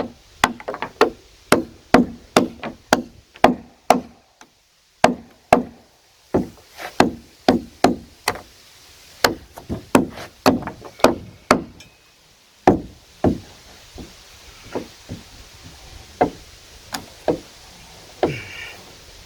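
Cut wood blocks knocked out one after another while building a cabin: a long run of crisp, close wooden knocks and whacks. The rhythm is brisk and steady, with a brief pause near the middle, and nobody talks.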